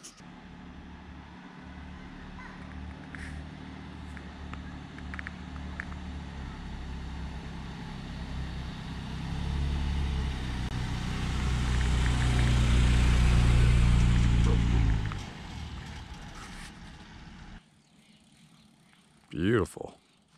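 Toyota Tacoma pickup truck engine idling and revving up, a steady low rumble that swells louder midway before cutting off, with a brief whistle-like sound near the end.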